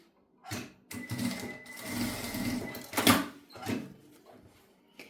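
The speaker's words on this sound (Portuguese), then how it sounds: "Fazer uma costurinha de segurança." A sewing machine runs in several short bursts as a safety seam is stitched across the strap edge of a fabric phone wallet, with brief pauses and handling clicks between runs, close and moderately loud.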